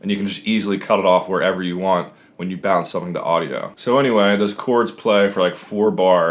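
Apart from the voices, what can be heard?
No everyday noises stand out.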